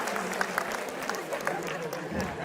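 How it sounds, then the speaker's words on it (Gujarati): An audience claps to welcome Rakesh Roshan at an event, a fairly quiet, steady patter of many hands with a few sharper claps, while someone talks over it. "જોરદાર તાળીઓ સાથે રાકેશ રોશનને વધાવીએ આપણે"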